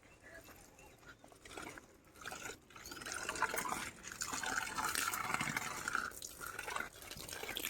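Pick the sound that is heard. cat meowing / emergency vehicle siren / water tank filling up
water tank filling up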